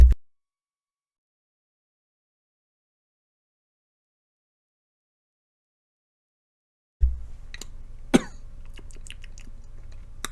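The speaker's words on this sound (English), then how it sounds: "I'm going to cough again" A few sharp coughs and a throat-clearing burst out after a long silence, close and fairly loud, with faint rustling between them.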